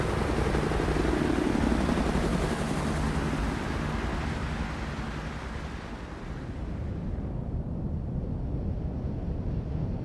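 Helicopter in the Act of War: Direct Action video game, a steady loud rotor and turbine wash filling the whole stretch like dense wind, continuous with no talking.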